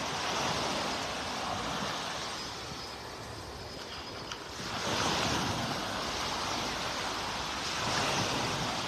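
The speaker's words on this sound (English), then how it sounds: "our beaches are open in Naples. I am walking on the beach." Ocean surf rolling onto a beach in North Naples, Florida, a continuous broad wash of breaking waves that swells and recedes, mixed with wind buffeting the microphone, no voices.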